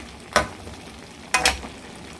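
Buttered shrimp in a pan give brief bursts of sizzling and stirring scrapes, one short burst then a pair of louder ones close by, with quiet hiss between.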